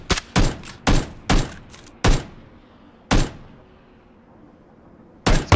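Gunfire in PlayerUnknown's Battlegrounds: loud, close single shots in a quick irregular run of about seven, then a pause and two more shots, with no talking over them.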